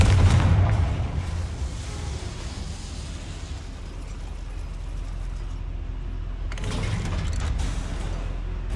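A Confringo spell blast in the game Hogwarts Legacy, set in a goblin mine, opening with a loud booming explosion that decays into a low rumble, then a second burst of crackling debris later on, with no talking.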